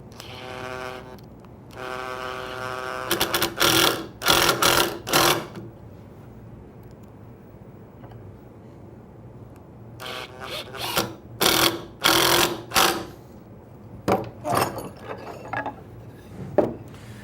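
A power drill drives screws through counterbored holes to join wooden pieces, with whirring bursts and stuttering ratchet-like clicks in several separate runs, close and loud, with pauses between the screws.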